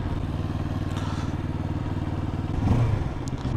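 A 693 cc inline twin, eight-valve motorcycle pulls away in first gear, its engine rumbling close by with a rising note and some clatter near the end.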